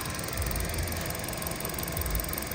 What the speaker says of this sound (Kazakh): Мотору жакшы оталып турат.